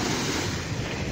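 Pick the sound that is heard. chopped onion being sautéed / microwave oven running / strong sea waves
strong sea waves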